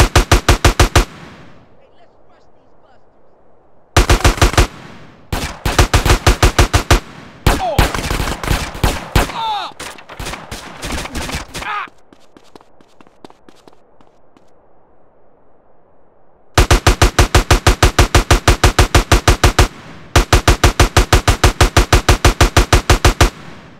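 Video game gunfire during gang turf wars in GTA San Andreas: loud rapid automatic bursts in long strings, broken by short gaps and a quieter stretch in the middle, with brief voice sounds.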